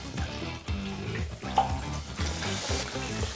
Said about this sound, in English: very carefully take some of this hot oil and pour it right over